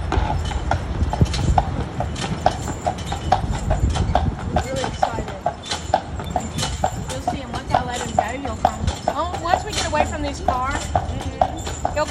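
Horse hooves clip-clop steadily on pavement as the animal pulls a carriage through Savannah, Georgia, a continuous close rhythmic clatter heard under people talking.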